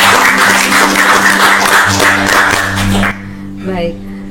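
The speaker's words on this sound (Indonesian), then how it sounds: "tepuk tangan dulu dong" A studio audience at a talk-show interview with the Maluku provincial BNN head breaks into loud, dense applause for about three seconds, then it cuts off and a voice speaks.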